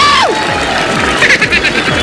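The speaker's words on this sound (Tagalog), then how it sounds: "Pasalubungan natin ng masigabong palakpak. May kasamang hiyawan yan." A crowd at a gathering welcoming a wheelchair-using married couple cheers and whoops loudly and continuously, with excited shouting and some applause mixed in, close and filling the space.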